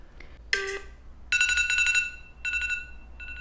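An electronic alarm tone sounds in short bursts: a brief chirp, then sustained bright synthetic tones with gaps between them, alone and fairly close.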